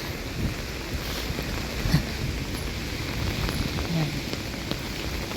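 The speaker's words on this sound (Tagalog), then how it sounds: "Let's go dahil umuulan na." Steady rain patters outdoors on a street in Spain near a fountain, under a constant wash of noise, with faint background bustle and occasional distant voices.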